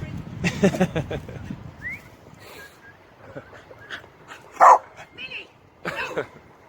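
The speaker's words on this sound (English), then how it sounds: "she just barks because you've got black clothes on" A female dog barks in a few sharp bursts, one louder yelp standing out, close by amid people talking indoors.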